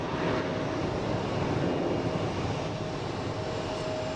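A FedEx Airbus A300 moving at an airport gives off a steady, broad jet-engine roar at moderate distance that holds constant throughout, with no speech.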